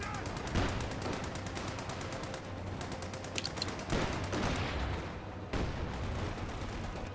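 Rapid machine gun bursts from a World War II–style video game crackle loud and dense with barely a pause, a few sharper cracks standing out over the continuous rattle.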